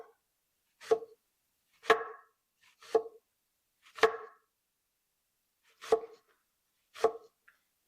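Six separate knife chops on onions against a cutting board, spaced roughly a second apart, close and crisp in an otherwise quiet kitchen.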